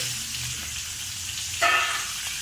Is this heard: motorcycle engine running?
no